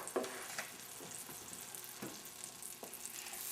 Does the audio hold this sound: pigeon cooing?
no